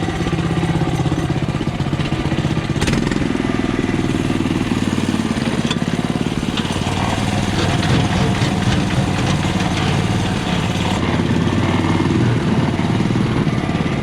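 A Honda GC190 engine-powered wheelbarrow with diff lock runs loud and close, its small single-cylinder engine chugging steadily throughout while working a heap outdoors.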